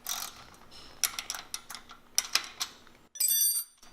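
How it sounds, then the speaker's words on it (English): Wrenches loosening lock nut bolts during a manual height adjustment on an Innova, giving a quick series of close metallic ratcheting clicks and ticks, then a brief higher-pitched metal scrape at the end. "I'm just going to loosen the bolts."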